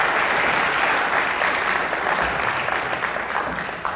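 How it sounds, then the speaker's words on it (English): An audience applauds a healthcare executive as he is introduced at an evening talk. Full, close crowd clapping stays steady, then eases off slightly toward the end. "so let's give him a big round of applause."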